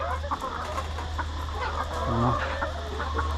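Chickens on a farm cluck and call in short bursts over a steady low hum of background noise, with a brief louder squawk near the middle; no one speaks.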